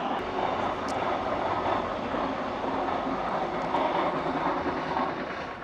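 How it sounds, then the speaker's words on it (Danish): A kilometre-long train rolls past nearby, a loud, unbroken rumble and rattle that holds steady for the whole stretch, with no one talking. "Nu kom der et 1 kilometer langt tog forbi"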